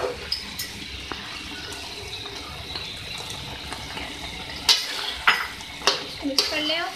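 Potatoes and greens (palak, bathua, methi) with softened tomatoes are stirred in a pan. A steady soft sizzle runs under quiet scraping, and several sharper spoon-against-pan knocks cluster toward the end.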